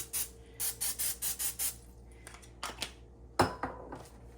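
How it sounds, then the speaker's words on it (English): Seven short bursts of cooking spray hiss in quick rhythm onto a pan, followed by a few clinks and knocks of the pan nearby. "I'm going to just very lightly spray it so that things don't stick too much."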